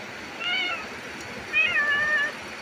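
A house cat meows twice outdoors at a ranch homestead, a short mew followed by a longer rising-falling one, close and clear with no talk.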